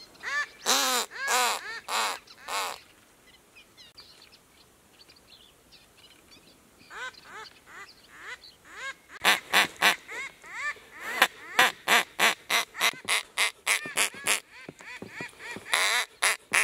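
Ducks quack loudly in repeated bursts during a hunt, a close, rhythmic series of calls, pausing for a stretch of quieter background before resuming in rapid runs.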